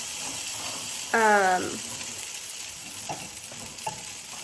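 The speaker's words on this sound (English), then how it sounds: "I am making fried eggs." Hot oil crackles and sizzles steadily in a pan as eggs fry, with a brief higher-pitched clatter partway through and a few quiet knocks.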